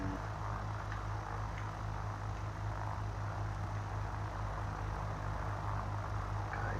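Cessna 172N Skyhawk II single-engine propeller plane with power increased on approach, a steady loud engine and propeller drone filling the cabin throughout, unbroken by talk.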